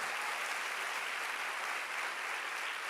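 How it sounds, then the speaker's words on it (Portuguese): A church congregation claps together in a continuous, even wash of applause, moderately loud and without pauses for a few seconds. "você pode celebrar, você pode aplaudir Jesus"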